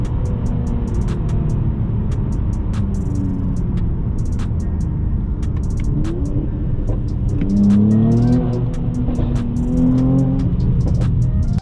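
A car being slowed by engine braking with paddle-shifter downshifts at high speed, its loud continuous engine drone sweeping up in pitch with rev blips between shifts, close and steady from start to end.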